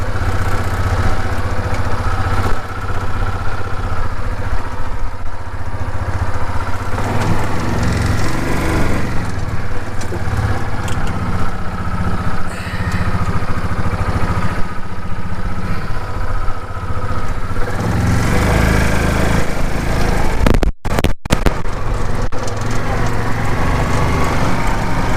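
A Yamaha Rhino 450 UTV engine runs steadily after a drive belt replacement, a loud, continuous mid-pitched drone with slight rises and falls in revs and a few sharp clicks near the end.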